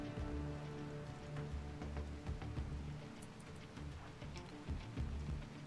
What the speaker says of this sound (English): And it's starting to rain as night falls on this